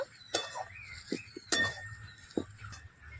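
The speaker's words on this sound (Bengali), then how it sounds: "ধনেপাতাটা দিয়ে এটাকে ভালো করে মিশিয়ে নেব" Spoon stirring a bean filling with chopped coriander in a pan, heard as a handful of scattered close metallic clinks and scrapes against the pan over a quiet background.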